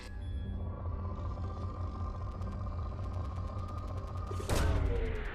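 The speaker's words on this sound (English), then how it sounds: "Launching probe." A probe launches in Mass Effect with a sharp bright burst near the end, over a steady low engine-like hum and faint repeating ticks.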